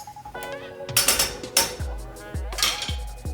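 A metal spoon clanks and scrapes around inside a pot of couscous and boiling water, a handful of sharp ringing knocks and rattles at close range with no talking.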